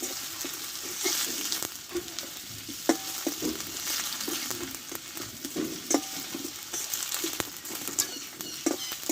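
Boiled potatoes sauté and sizzle in a pan with steady frying crackle, stirred now and then with sharp scraping taps of a spatula, no voices.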